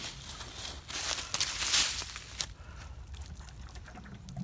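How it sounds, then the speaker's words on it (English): Water poured from a container onto packed dirt on a BMX dirt jump, a trickling, splashing pour that swells in the middle and then tapers, with a few outdoor shuffles and no talk. "Take the rest of our water, get it nice and wet, so it packs in real nice."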